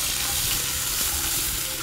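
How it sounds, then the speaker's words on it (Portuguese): Bacon sizzles in a hot, oil-greased pan, a steady, dense crackling hiss that holds evenly throughout with no talking over it. "O bacon já tá bem fritinho"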